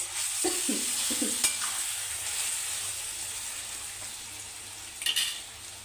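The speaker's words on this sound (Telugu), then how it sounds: "ఇప్పుడైతే చికెన్ చూద్దాము మనకు ఇంకా బాగా మొగ్గించుకోవాలి" Chicken curry being stirred and fried in a pan, with a constant low sizzle and a few scraping stirs of a spoon early on, then a short clatter near the end.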